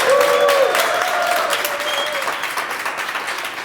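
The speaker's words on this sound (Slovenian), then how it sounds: "Pa še en aplavz za ime leta" A crowd applauds steadily at a Slovenian Person of the Year 2025 award ceremony, dense clapping filling the room throughout, with a few faint voices mixed in.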